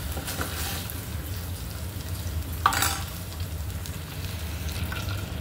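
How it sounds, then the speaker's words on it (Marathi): Cumin tempering for masala bhindi sizzles steadily in hot oil left in the pan after the okra was removed, on lowered heat, with a brief louder crackle midway; no voices. "त्याच तेलामध्ये आपण फोडणी टाकणार आहे"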